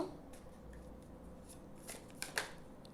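Tarot cards are shuffled and drawn for a reading, with soft papery riffles and slides followed by a couple of sharper flicks near the end, all faint and close.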